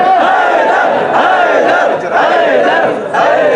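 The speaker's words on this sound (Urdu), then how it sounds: "سید بلند کریں نعرے کی گونج میں حیدر حیدر حیدر" A crowd at an imam bargah gathering in Larkana loudly chants the slogan "Haidar" in unison, three strong rhythmic surges with short breaks between them, close and full.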